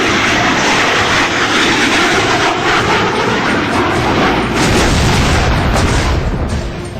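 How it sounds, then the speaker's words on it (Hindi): An Indian Air Force Sukhoi Su-30 fighter jet flies over the sea, its loud, steady engine roar filling the sky in a continuous rushing blast with no break. "देखिए आसमान के इस महायोद्धा को। यह हिंदुस्तान का सबसे घातक फाइटर जेट"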